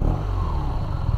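BMW R nineT with a boxer engine, a 2022 model, revving steadily up close with a loud, continuous low rumble and no voices.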